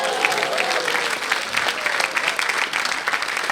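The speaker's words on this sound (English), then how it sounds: "Come on, clap it up." A crowd at a stand-up comedy show breaks into sustained applause, many hands clapping in a bright, continuous patter throughout.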